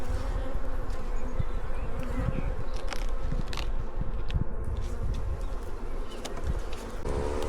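Angry honey bees swarm around an opened hive as it is taken apart, a dense, continuous buzzing that stays loud and steady throughout, with individual insects flying close past the ear.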